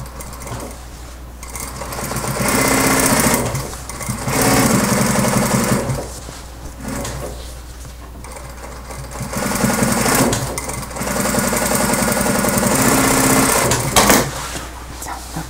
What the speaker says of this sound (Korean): 그리고 또 한 번 5mm 스티치.